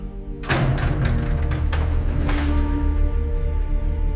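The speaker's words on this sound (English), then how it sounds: "Every morning I open this door." A door is opened in the morning, giving a sudden rise in sound followed by a few clattering knocks and a steady background rumble, with no talking.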